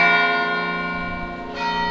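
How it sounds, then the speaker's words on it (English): Church bells ringing at noon at Bom Jesus do Monte in northern Portugal, a sustained, resonant toll with long ringing overtones, a fresh strike renewing the hum near the end, fairly loud and without talk. "We should get 12 bells."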